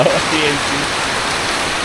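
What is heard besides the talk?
heavy rain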